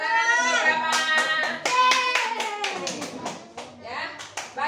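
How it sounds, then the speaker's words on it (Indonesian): Schoolchildren in a classroom clapping their hands in a loose, uneven round of claps, with a teacher's voice and children's voices heard over and between the claps. "Ya, tepuk tangan untuk Gama."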